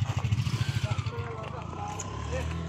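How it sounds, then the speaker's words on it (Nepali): A motorcycle engine starts up close by, its low, pulsing idle thudding rapidly and steadily before settling into a smoother, rising run, with people talking over it. "बाइक स्टार्ट गर"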